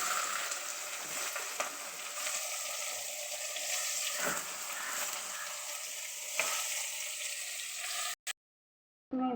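Squeezed ridge gourd drops into hot oil with onions in a pan, giving a steady, loud, close sizzle with a few stirring scrapes throughout before a brief cut near the end.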